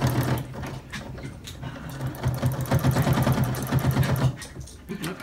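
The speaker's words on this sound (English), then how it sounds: "Back stitch it across there." A sewing machine back stitches across a cloth mask, running in a steady, rapid close-up hum of needle strokes for several seconds before stopping.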